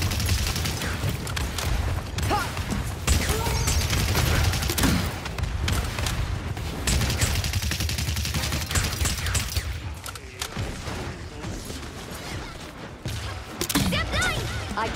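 Gunfire rattling almost nonstop through a Paladins match on the Brightmarsh map, with rapid shots, impacts and thumps layered under game voice lines.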